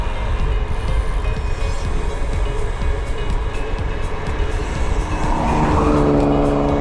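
A BMW car passes on the road, a steady loud whoosh of traffic and tyre noise rising toward the end as it goes by close, with no talk over it.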